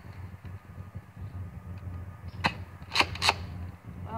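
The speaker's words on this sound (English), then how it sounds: "So now I'm gonna fire the double dealer since, and it does have 2 12s, but it fires 2 at a time." A NERF Double Dealer foam dart blaster fires in a few quick snaps, two close together then a third, light and plasticky over a murky indoor background.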